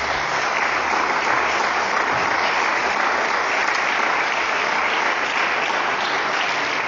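A church congregation gives loud, sustained applause during a sermon, continuous dense clapping at an even level with no talk over it.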